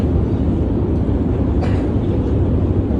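A metro train runs with a loud, steady rumble and continuous roar, heard from inside the carriage, with no talk.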